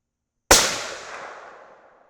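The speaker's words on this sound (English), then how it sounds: "Shooting pretty fast here." A single sharp rifle shot during a Vortex Strike Eagle 4-24x50 scope accuracy test at a shooting bench, a sudden loud crack with a long fading echo trailing off over about a second and a half.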